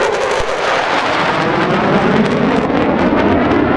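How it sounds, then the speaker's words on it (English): Thunderbirds jets roar overhead at the Travis AFB air show, a loud continuous rumbling wash of jet noise that swells and holds throughout without voices. "As you can hear and maybe see in the background, the Thunderbirds are wrapping up their show."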